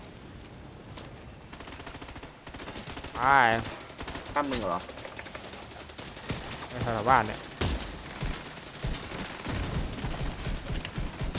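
Bursts of rapid gunfire from The Division 2 ring out beneath casual talk, with a few loud shots standing out among quieter firing.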